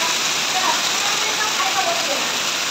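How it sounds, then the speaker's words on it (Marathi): Heavy, continuous rain pours outside a village house in Sangameshwar taluka, a dense steady roar of water close by. "आमच्याकडे बघा पाऊस किती पडतोय."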